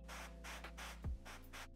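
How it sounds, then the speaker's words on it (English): An airbrush sprays paint in short hissing bursts onto a Warhammer 40K Leviathan Space Marine miniature, with a close, soft rhythm of pulses and a brief low thump midway; no talking. "So I'll carefully start spraying where I think the highlights are going to be, on the tops of all the armor panels."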